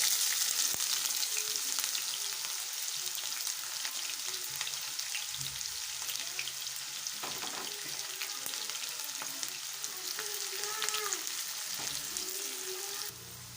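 Onions fry in ghee until brown for matar gosht. A steady, crackling sizzle continues throughout, with intermittent stirring scrapes and clinks, and fades slightly at the very end.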